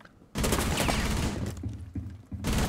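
A loud burst of rapid gunfire in Rainbow Six Siege, then scattered shots, a short lull and another burst at the end.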